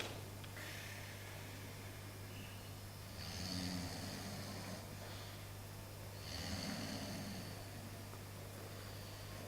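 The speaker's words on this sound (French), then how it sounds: "Elle ronfle, puis elle ne ronfle plus." A woman snoring softly in a quiet room, two slow breathy snores spaced several seconds apart over a steady low hum.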